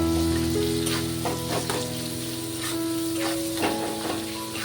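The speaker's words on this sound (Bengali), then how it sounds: "বেশ ভালোভাবে নেড়ে চেড়ে পেঁয়াজটাকে ভেজে নেব।" Sliced onions fry with salt in a pan, a close continuous sizzle broken by scraping stirring strokes, with no voices over it.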